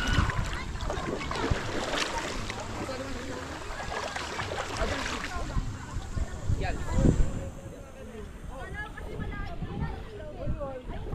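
A small boat, half swamped at sea, rocks and splashes through the water with sloshing and knocking close by, while several people talk and call out over it.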